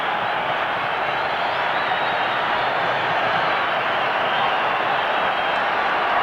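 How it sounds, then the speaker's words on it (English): A large rugby crowd packed with Western Province fans roars wildly at a 1990s Transvaal match, a steady, dense wall of cheering and noise with no letup. "Western Province fans, of whom there are quite a lot in the crowd here, going absolutely mad"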